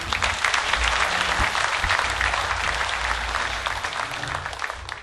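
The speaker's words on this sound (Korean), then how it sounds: "힘찬 단결의 박수를 부탁드리겠습니다" A large hall of trade union congress delegates claps vigorously and continuously, a dense, steady wash of applause with no voices over it.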